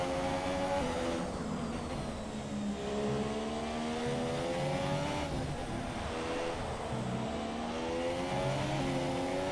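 An F1 race car engine in the F1 2017 video game on the Sochi, Russia circuit screams continuously at high revs, its pitch dipping and climbing through gear changes with no voices over it.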